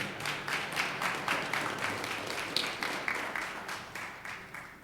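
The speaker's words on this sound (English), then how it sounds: "We can just give a great big hand clap so we can check the mics and everything" An audience at a town hall meeting claps together in a strong rhythmic unison, with evenly spaced sharp beats about twice per second in a large room, slowly fading toward the end.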